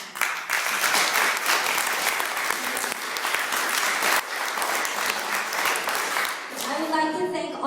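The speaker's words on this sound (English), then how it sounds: "Let's give them a round of applause." Loud, dense audience applause for panelists at a panel discussion on Latinos in McLean County, sustained clapping for several seconds before tapering off, with a few voices rising at the end.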